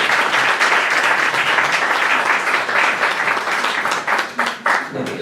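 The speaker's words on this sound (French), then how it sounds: "Donc on peut l'applaudir et merci." An audience at a lecture event honoring Professor Yazdan Yazdanpanah breaks into loud, sustained applause, dense clapping throughout that thins slightly toward the end.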